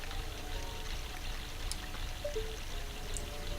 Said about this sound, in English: The sound of this waterfall is actually pretty calming